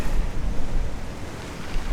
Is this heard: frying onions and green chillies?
no